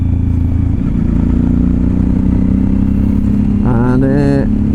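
A Suzuki motorcycle engine runs steadily, loud and close with a constant droning hum, and a brief rising rev near the end.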